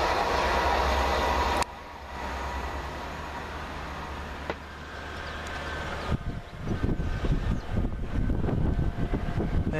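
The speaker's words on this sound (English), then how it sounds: "the heavily delayed 1K20 from Manchester Piccadilly to Hull." A delayed Class 185 train on the 1K20 service from Manchester Piccadilly to Hull passes close by, a loud rushing roar with wheel clatter and wind buffeting that dips briefly before surging again.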